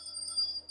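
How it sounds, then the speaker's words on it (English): A small bell inside an old brass candle holder gives a single faint, high ring that sustains briefly on its own. "It's a candle holder, brass, with a bell in it."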